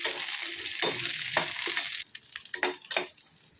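Pirandai and avaram flowers sizzle and crackle in a hot pan while being stirred, a steady close frying hiss broken by louder bursts of spatula movement.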